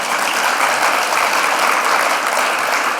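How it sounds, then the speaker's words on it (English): A big round of applause for city staff fills a Gresham State of the City address, loud, dense and sustained throughout without a break. "I just want to take a moment and give those those staff a big round of applause"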